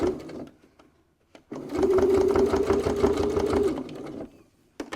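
A domestic sewing machine back-stitches while sewing a fabric wallet, a close whirring, rhythmic stitching run of about two and a half seconds, preceded by brief clicks and handling noises.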